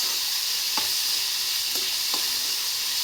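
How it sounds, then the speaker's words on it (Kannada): Tomatoes fry in a pan with a constant loud hiss. Three soft scraping strokes of a stirring spoon come at an even pace, with no voices. "ಹಾಗೆ ಟೊಮೊಟೊ ಹಾಕ್ತಿದ್ದೀನಿ. ಇದು ಕೂಡ ಒಂದ್ಸಲ ಚೆನ್ನಾಗಿ ಮಿಕ್ಸ್ ಮಾಡ್ಕೊಳ್ಳಿ."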